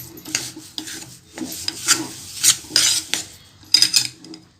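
Gram flour roasting in ghee over a low flame for besan laddu, stirred with a steady run of rasping, scraping strokes of a spoon against the pan, close and fairly loud.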